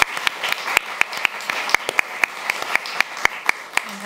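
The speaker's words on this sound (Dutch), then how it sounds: "Applaus voor Heidi." Audience clapping in a studio discussion setting, sharp individual claps standing out over a softer spread of applause, fairly sparse and close.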